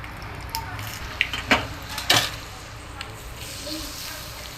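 Spices tempering in hot oil for a Gujarati dish, a crackling sizzle with a few sharp pops and bursts rising over a low background hiss, fairly close.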